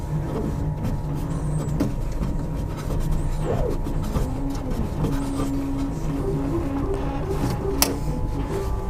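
An UP Box 3D printer's X-axis is pushed back and forward by hand after belt work, giving faint whirring and sliding sounds with small clicks over a steady background hum.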